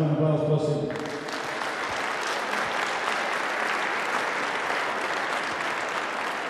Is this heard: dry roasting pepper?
no